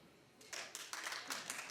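A few scattered audience members clap in a television talk show studio, a thin, sparse patter of handclaps starting softly and continuing unevenly for under two seconds.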